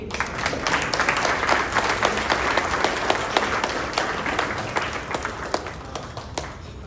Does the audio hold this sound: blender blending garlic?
no